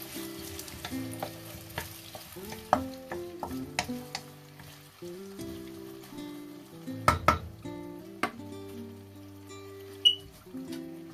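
Onion frying in hot oil sizzles softly while a pan and utensils clink and scrape in scattered, ringing knocks.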